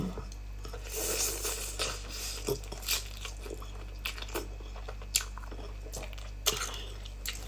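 Close, crunchy chewing and biting on a Thai-Lao mixed yam salad dressed with fermented fish sauce, wet bites and crunches recurring every second or so over a steady low hum, with no talking.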